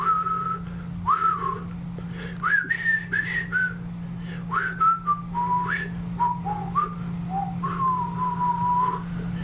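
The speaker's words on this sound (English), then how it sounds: "I know that whistle tune." Someone whistles a flowing melody of sliding, wavering notes, close and steady, above a constant low hum.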